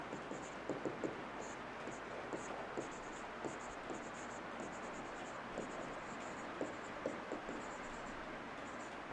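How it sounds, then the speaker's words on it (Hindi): Pen or marker scratching out a note during a live RCC civil engineering lecture, a run of soft irregular strokes over a steady room hiss, fairly quiet and close, with no talking. "अब इसमें एक नोट लिख लेते हैं"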